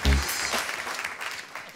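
Studio audience applauding on a French TV game show, a brief burst of clapping and crowd noise lasting under two seconds, mixed with voices.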